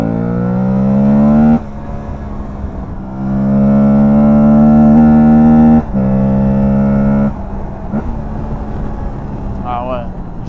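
Aprilia Tuareg 660 adventure motorcycle engine, loud and close, revving in steady rising pulls that stall and surge again through several gear changes, with its pitch stepping up and down over about ten seconds.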